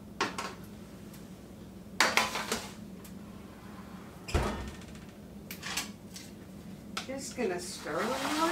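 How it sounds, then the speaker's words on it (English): Fiesta ranch seasoned oyster crackers are stirred around in a pan, giving intermittent close rattling and scraping bursts separated by quieter stretches. "Just going to stir them around."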